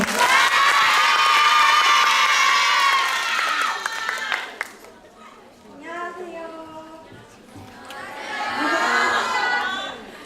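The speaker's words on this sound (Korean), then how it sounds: "큰 박수로 맞이해주세요." An audience of schoolgirls at a high school presentation event cheers and claps loudly for a student presenter, a dense burst that fades after a few seconds into scattered shouts and chatter, then swells again briefly.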